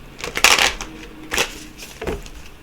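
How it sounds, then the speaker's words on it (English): A deck of playing cards being shuffled nearby, with three crisp riffling bursts separated by short pauses, heard alone without talk. "One more shuffle here."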